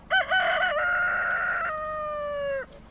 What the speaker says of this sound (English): Even the rooster makes an important announcement.